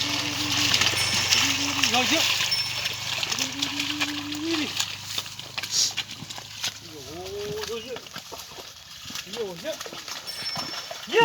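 Oxen being driven through a muddy paddy field in the Konkan region during ploughing before rice planting, with squelching, splashing steps and scattered knocks, under frequent nearby talk.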